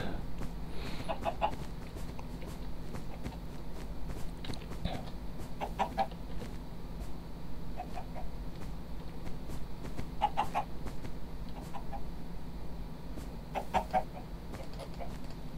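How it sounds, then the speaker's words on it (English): Chickens in the video game Minecraft cluck in short, scattered bursts over a steady low background hum, several birds calling intermittently with no voices. "There's a chicken. Chicken, chicken. There's three."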